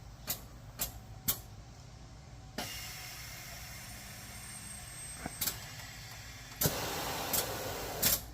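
Air suspension on a lifted GMC truck with a Cummins diesel, bagged on 40-inch tires, raising to maximum ride height: a steady compressor-like hiss and hum with sharp pneumatic clicks and bursts of air release, close and continuous.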